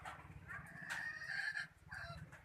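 A rooster crows once in a long, drawn-out call at moderate distance, with lower clucking and farmyard noise around it.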